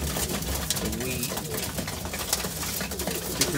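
Birmingham Roller pigeons coo in a loft during feeding, low soft cooing layered with busy flock murmur and scattered feed and wing noises, steady and close, with a voice in the background.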